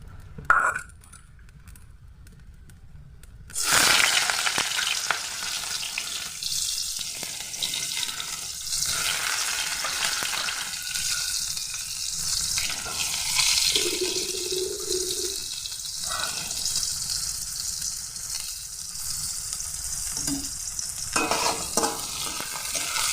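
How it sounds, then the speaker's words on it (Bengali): Onion frying in hot oil in a kadai: after a short quiet start, a loud, steady close-up sizzle begins and holds throughout, with occasional stirring scrapes and clinks. "পেঁয়াজটা লাল লাল করে ভেজে নেব।"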